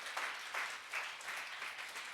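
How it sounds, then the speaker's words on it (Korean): A church congregation gives a steady round of applause, many hands clapping together in a continuous wash, moderately quiet and heard from a distance. "우리 주님께 영광의 박수를 올려드리겠습니다."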